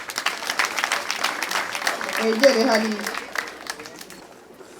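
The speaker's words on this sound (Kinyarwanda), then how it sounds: "Mubaha amashyi menshi." A crowd applauds couples at a Rwandan civil wedding ceremony where fourteen couples marry together; sustained clapping runs beneath a speaking voice, swelling midway and then fading out.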